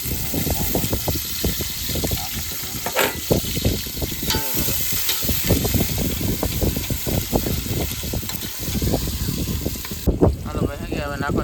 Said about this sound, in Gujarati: આપણે ડુંગળી ઉકરવા નાખવાનું છે